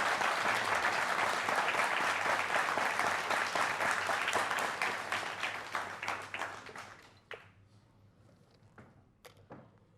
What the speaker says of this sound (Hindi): एक बार फिर जोरदार तालियां